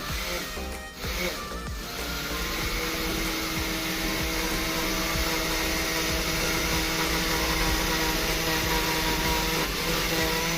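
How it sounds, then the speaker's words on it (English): A blender purees the ingredients for a Serenity cocktail with a loud, steady motor whir that runs the whole time, with only a brief dip near the start. "Then we're going to put our lid on and blend that all up."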